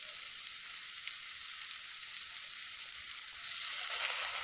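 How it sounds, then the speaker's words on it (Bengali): Chopped tomato sizzles and fries steadily in a spiced masala base for a Bengali egg curry, a continuous close hiss that swells slightly louder near the end, with no talking. "এবার এতে আমি দিয়ে দেব টমেটো কুচি, দিয়ে এটাকে আমি ভালো মতো ভেজে নেব"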